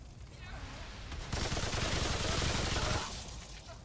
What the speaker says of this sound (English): my machine gun melts